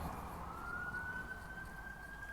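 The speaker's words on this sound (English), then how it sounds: "there's always ambulances, sirens in the background." A faint, distant ambulance siren near a hospital holds a steady rising wail beneath low background rumble.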